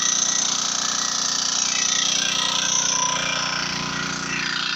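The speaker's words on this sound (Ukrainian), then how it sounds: "Ось наша мотопомпа працює." A motor pump running on a one-hectare planted plot, a steady loud droning engine hum with a constant mechanical rattle, unbroken throughout with no voices.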